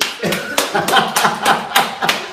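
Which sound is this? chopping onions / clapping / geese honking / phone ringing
clapping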